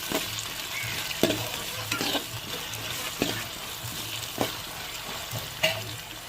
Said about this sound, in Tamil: எண்ணெயில் கொஞ்சம் நேரம் பச்சை பயிறு எல்லாமே வெந்து வரட்டும்.